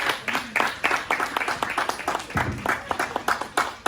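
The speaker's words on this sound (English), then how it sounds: "Everyone clap for Emmanuel." A church congregation claps for a man named Emmanuel, with loud, close, uneven handclaps in a steady rhythm throughout and voices mixed in underneath.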